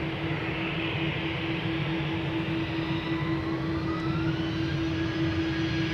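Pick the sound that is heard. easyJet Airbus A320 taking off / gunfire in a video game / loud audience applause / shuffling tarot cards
easyJet Airbus A320 taking off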